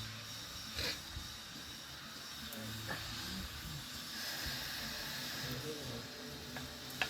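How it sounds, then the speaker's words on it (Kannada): Bread frying in ghee gives a steady, quiet hiss that runs the whole way, with a few faint clicks and a person talking over it. "ಕಲರ್ ಬರೋ ತನಕ ಸ್ವಲ್ಪ ಫ್ರೈ ಮಾಡ್ಕೊಳ್ಳಿ ತುಪ್ಪದಲ್ಲಿ"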